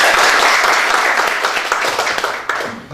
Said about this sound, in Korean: 소개해 드릴 때마다 큰 박수를, 환영의 박수를 쳐주시기 부탁드립니다